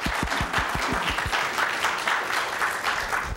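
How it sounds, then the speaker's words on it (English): A steady round of audience applause fills a Multnomah County public gathering, dense overlapping claps sustained and even throughout without talk. "if you could join me in giving Jada and Joanne a quick round of applause"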